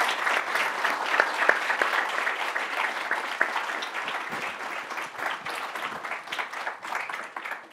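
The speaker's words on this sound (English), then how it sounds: "let's give them a big round of applause" Audience applause fills the hall at the close of a Stanford energy panel discussion: steady, dense clapping from many hands that carries on evenly for several seconds without a break.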